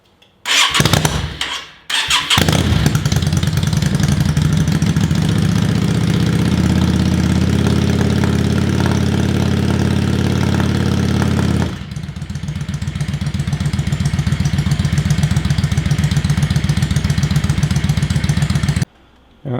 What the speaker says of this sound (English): After starting the bike for the first time, I always let it run for a minute or so